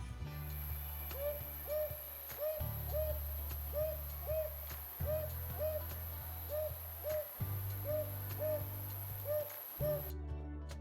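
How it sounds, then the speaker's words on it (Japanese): An owl hoots in a long, steady run of soft, evenly spaced hoots over a looping low musical backing. The call is clear and close. "答えは、フクロウだよ。"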